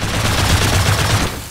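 Rapid automatic gunfire rattles in a fast, even burst, loud and close, shooting to break a furnace in a video game.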